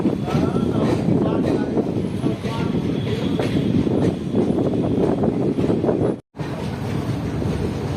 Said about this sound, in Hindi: हमारी ट्रेन जा रही है प्लेटफॉर्म नंबर